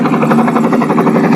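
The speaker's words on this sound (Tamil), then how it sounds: "இப்போ நம்ம ஹெலிகாப்டர் ஸ்டார்ட் பண்ணிடலாம்." A small motor on a homemade toy helicopter gives a loud, close, continuous buzzing whir with a quick fluttering pulse, heard alone with no voices.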